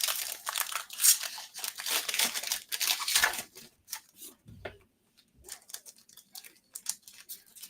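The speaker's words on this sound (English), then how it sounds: "I'm going to unwrap all these." Sports trading card packs are torn open, with close, crisp bursts of crinkling wrapper and brief pauses between them. No one speaks.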